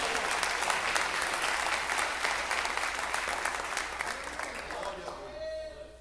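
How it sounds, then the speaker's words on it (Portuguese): A church congregation claps joyfully in praise, dense steady clapping filling the room for several seconds before fading, with a faint tone lingering at the end. "pode exaltar o nome do Senhor com as suas palmas bem alegre para Jesus"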